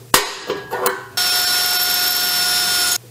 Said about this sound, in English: I drilled holes in the pan and matching holes in the stainless steel flaps